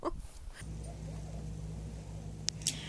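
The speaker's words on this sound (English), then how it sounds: "The dogs are back." Dogs outdoors in a snowstorm, a faint whimper and a couple of short yips over a low steady engine hum, with a sharper yelp near the end.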